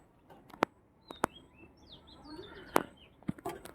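Birds chirp outside a window on a quiet rural afternoon, sending faint, scattered high chirps through the air, broken by a few sharp nearby knocks.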